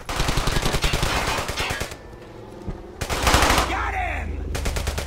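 Rapid machine-gun bursts aimed at German soldiers in Brothers in Arms: Hell's Highway rattle loud and close in two sustained volleys, with a short pause between them and a tail of echoing battle noise.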